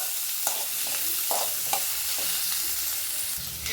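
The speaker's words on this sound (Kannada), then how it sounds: "ಈರುಳ್ಳಿ ಯೆಲ್ಲೋ ಕಲರ್ ಆಗೋ ಗಂಟ ಫ್ರೈ ಮಾಡ್ಕೊಳ್ಳಿ" Onions fry in a pan toward yellow, a steady close sizzle broken by a few scraping stirs, with no voices.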